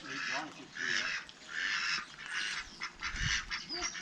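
Ducks by a garden pond quack and honk in repeated bursts, fairly close, with brief pauses between calls.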